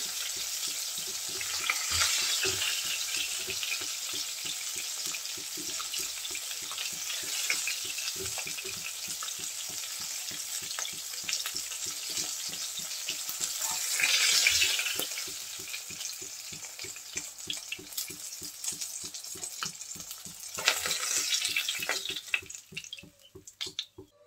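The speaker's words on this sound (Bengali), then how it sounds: "মাছ আমি একটু লাল লাল করে ভেজে নিয়েছি। এখন তেল থেকে তুলে নেব।" Fish frying in oil in a pan, crackling and sizzling steadily and close for a long stretch, with occasional louder bursts of spatter and a few stirring sounds, no talk.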